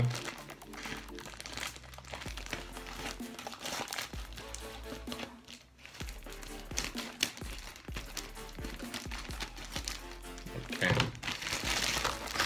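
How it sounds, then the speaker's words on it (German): Topps Match Attax Extra 2016-2017 Bundesliga starter pack packaging torn and crinkled open by hand, loud close plastic crinkling and ripping that runs continuously throughout. "Muss man einfach hier aufreißen oder ich hole mir einfach eine Schere dazu."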